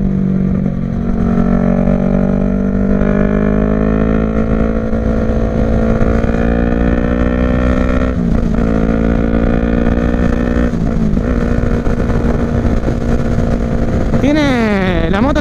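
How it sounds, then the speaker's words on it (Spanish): A Yamaha MT-03 twin-cylinder fuel-injected motorcycle engine idles steadily at close range with a throbbing low hum, then briefly revs up near the end. "Esta moto es, digamos, bicilíndrica."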